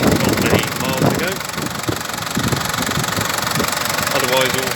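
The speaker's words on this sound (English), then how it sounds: "This is the 3-litre turbo diesel, all in excellent health." Toyota Granvia 3-litre turbo diesel engine idling, a steady, loud, close rumble with a constant knocking clatter throughout, while someone talks over it.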